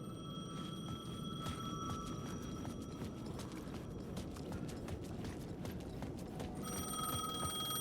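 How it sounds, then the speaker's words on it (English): A payphone rings in the video game Alan Wake 2, its bell tones repeating steadily over a dense, rumbling ambient background, with no talk. "The payphone was ringing."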